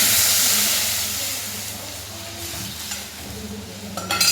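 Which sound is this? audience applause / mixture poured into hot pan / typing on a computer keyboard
mixture poured into hot pan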